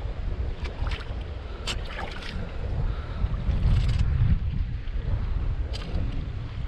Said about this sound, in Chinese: 这会起点小风了。